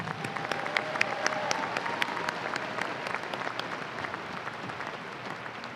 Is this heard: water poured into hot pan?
no